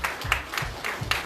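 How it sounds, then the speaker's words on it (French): A church congregation applauding during a French-language service, a brief burst of rhythmic clapping from a group in a room, moderately loud. "On applaudit le Seigneur Jésus sur ça"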